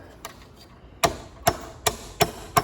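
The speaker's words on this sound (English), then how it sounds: "Smash with a hammer" Five sharp metallic hammer blows land at a steady pace on a ceiling fan motor held in a vise, each a loud, close strike ringing briefly against a quiet background.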